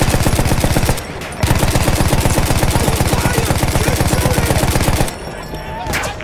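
Sustained machine gun fire in the video game Battlefield 1, loud rapid bursts in a dense steady rhythm, broken by one brief pause and then tapering off near the end.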